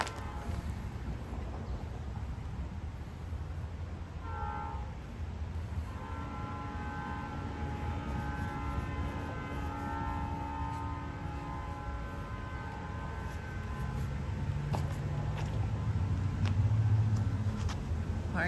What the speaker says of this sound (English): sorry for all the noise, live on a busy road, close to train tracks